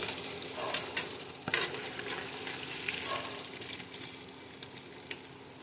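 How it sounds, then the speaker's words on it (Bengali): Fried paneer cubes stirred with salt in a hot pan: a soft continuous sizzle broken by a few sharp spatula scrapes and clinks against the pan, fairly quiet and close, without talk. "নুনটা দিয়ে আমি একটুখানি হালকা করে নেড়ে নেবো এগুলোকে।"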